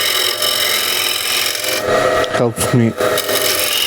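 A hand scraper rasps across the cross-grain surface of a wooden box in steady continuous strokes, close and loud, with a brief spoken phrase partway through.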